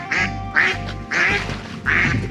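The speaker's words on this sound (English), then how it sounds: "I see all the ducklings" Ducks and ducklings quacking at a provincial park lake, four loud close calls in a steady repeating rhythm with brief pauses between them.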